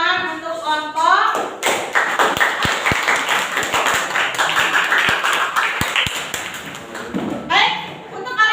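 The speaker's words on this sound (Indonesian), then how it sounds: "boleh tepuk tangan untuk kelompok" A classroom of students claps for a group, a burst of scattered hand claps and taps lasting several seconds, with a teacher's voice before and after and children's voices mixed in.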